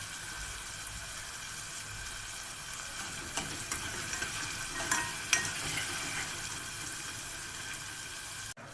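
Pigeon gizzards frying in a pan while being stirred, a steady close sizzle with several scraping stir strokes midway and a clunk at the end.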